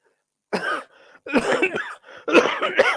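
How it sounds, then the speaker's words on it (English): Several harsh, close coughs in quick bursts, separated by short pauses, with a quieter throat-clearing sound between them. "Cough."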